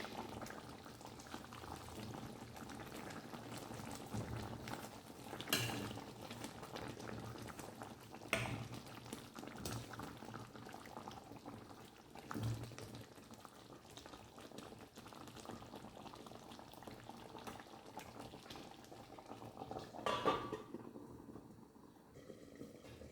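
Stuffed brinjal curry bubbles quietly in a pan, a faint continuous simmer with a few soft stirring knocks spaced several seconds apart, no voices.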